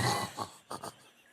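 A person tries to imitate a lion roar but it comes out as rough, hog-like grunts: one longer breathy snort followed by two short grunting bursts, close and fairly quiet.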